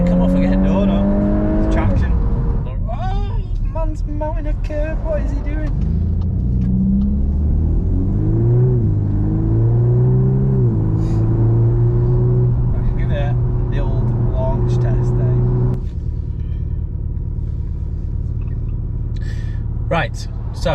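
A VW Golf R Mk8 accelerates hard with tyres struggling for traction, its loud engine rumble climbing steadily through the revs from inside the car, with people talking over it.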